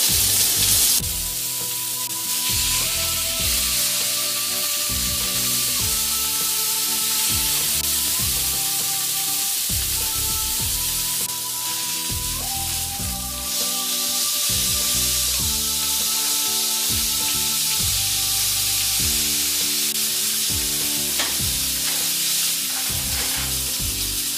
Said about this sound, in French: le bruit de la viande qui grille